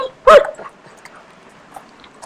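Dogs belonging to a passing woman let out one short, loud bark burst near the start while out on a walk, followed by faint, scattered yips and low background noise.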